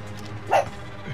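Dog barking in the video game Call of Duty Warzone, a single short bark at mid distance over a low, steady game background.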